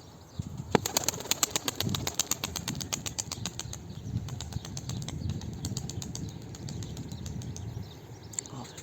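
Rapid wing flaps of a young grey pigeon clatter in quick bursts, loudest early on, over a low rumbling background, as the bird takes off and flies nearby.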